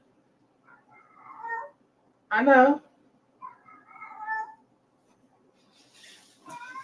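A cat meows several times nearby, drawn-out mews separated by short gaps, while a person speaks briefly between them in a kitchen.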